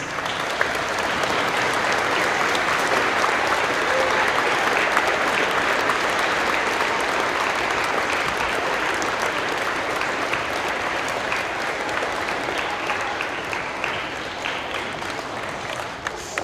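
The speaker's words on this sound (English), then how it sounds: "we ask all of our veterans to stand one more time for a round of applause" Sustained applause from an audience honoring veterans at an elementary school Veterans Day program, a steady dense wash of clapping that holds for the whole stretch, easing off only slightly at the end.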